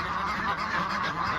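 Local Indonesian ducks kept on dry, water-scarce land calling loudly and continuously at close range, a dense overlapping chorus of honking quacks.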